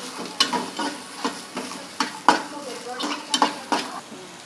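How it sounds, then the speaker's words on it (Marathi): Chopped onion frying for a spiced stuffed-brinjal curry, with a spoon scraping and stirring it around the pan in repeated strokes over a steady soft sizzle, close and alone. "आता कांदा टाकते भाजायला"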